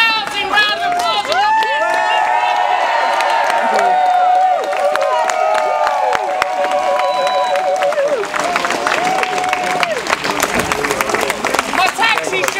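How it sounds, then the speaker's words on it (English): A crowd at a street campaign against an estate eviction claps and cheers loudly, with shouted voices and whoops rising over continuous dense applause that stays close and full throughout. "Give a rousing round of applause."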